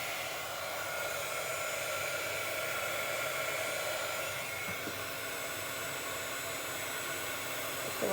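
A heat tool blows hot air over gilding leaf flakes on a stamped card, a loud, steady whooshing hum close by that runs unbroken throughout, with a faint click near the end.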